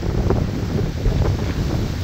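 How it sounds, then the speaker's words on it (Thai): Strong wind buffets a mountain campsite among tents and parked cars on a cold night, a steady low roaring rush with gusty swells that fills the whole stretch, no voices. "วันนี้ลมแรงมาก"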